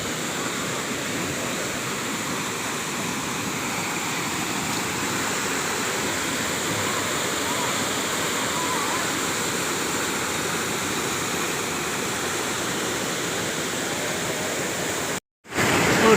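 Chrok Leang waterfall gives a steady, even roar of falling water that holds unchanged for about fifteen seconds, with no voices, before a brief dropout at the end.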